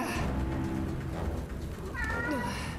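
Homer the cat meows in the fantasy video game Forspoken, a rising, drawn-out call heard once amid a dense, busy game soundscape that stays loud throughout.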